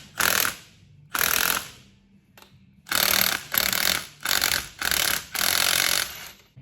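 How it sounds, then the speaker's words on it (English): A bearing is pulled off a gearbox main shaft from a GQ/GU Patrol. Loud, harsh mechanical bursts of about half a second each repeat close by with short pauses between them, and no voices. "I'm pulling the bearing off"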